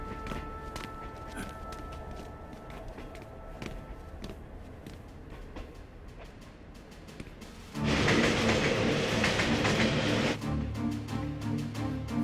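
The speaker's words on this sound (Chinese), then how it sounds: "火车马上进站了" A steam-era train arriving at a station in a Chinese wartime drama, rumbling and clattering steadily before a louder burst of hissing, rushing noise swells in near the end, with no talk.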